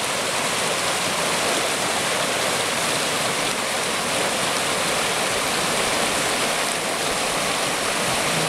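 Creek water flows steadily over rocks in July, a continuous broadband rushing and splashing that stays even and close throughout with no voices.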